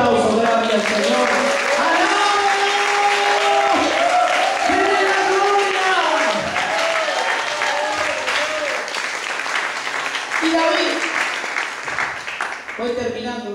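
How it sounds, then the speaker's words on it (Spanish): A church congregation applauds loudly and continuously for over ten seconds, with voices calling and crying out over the clapping throughout. "Den un aplauso grande al Señor."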